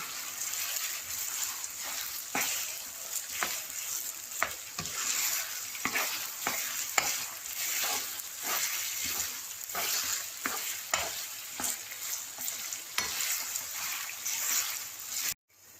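Chicken pieces sizzle in their own juices in a pan over a medium-low flame, a steady bright frying hiss broken by repeated scrapes and clinks of a spoon stirring, with no talking.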